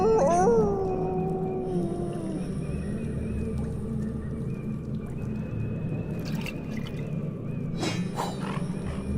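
A dog in a video game whimpers and then howls, one long wavering cry up close at the start that trails off, followed by quieter ambient game sounds and a few faint yelps.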